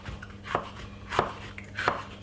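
A sharp knife dices yellow pepper on a board with three clear, evenly spaced chopping knocks, close by, over a quiet kitchen background.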